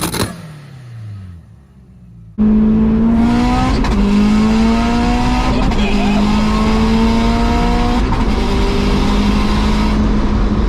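A 500bhp Subaru Impreza STi with a screamer pipe and anti-lag pulls hard nearby, its engine note climbing through rising revs in a loud, raspy roar, with a quieter stretch of voices and noise at the start.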